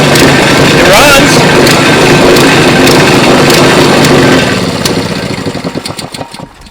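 A Honda GC160 small generator engine running up close, a loud, steady mechanical drone that may need carburetor adjustment, then dying down into sputtering, uneven chugs as it winds off near the end.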